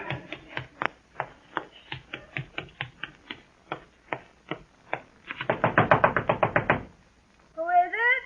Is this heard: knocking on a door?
yes